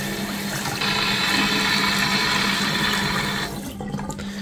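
Hot water gushes steadily from a tap, a loud, close, broadband hiss that swells in after a moment, holds for about three seconds and then cuts off, leaving a low hum; no one speaks.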